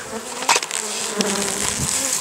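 Honeybees buzz in a dense, continuous drone up close at the hive, with individual insects zipping past and louder whirs cutting through.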